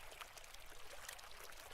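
Water gushing out of backed-up plumbing in a house in the adventure game The Adventures of Nick, a steady broadband pouring and splashing that runs unbroken and fairly faint for the whole moment, with no voices.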